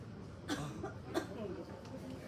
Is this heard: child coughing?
yes